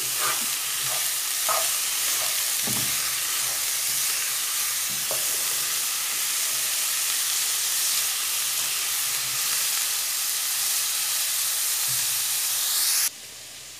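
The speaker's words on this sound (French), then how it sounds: "Je vais ajouter donc les épices et je vais pouvoir faire encore revenir le tout ensemble." Vegetables and spices sauté in a hot pan, a steady bright sizzle and hiss with a few scraping stirs near the start, running unbroken at close range before cutting off abruptly near the end.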